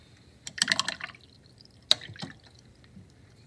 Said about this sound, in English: I'm going to clean that out, dry my brush, and kind of soak up some of that black